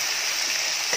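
Spices sizzling and frying in a pan for an eggplant, drumstick and potato kulambu, a steady bright hiss with no pauses.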